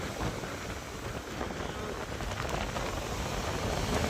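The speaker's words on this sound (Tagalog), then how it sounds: "Lakas ng hangin." Steady, dense roar of strong typhoon wind and rain battering the microphone, loud and continuous without a break.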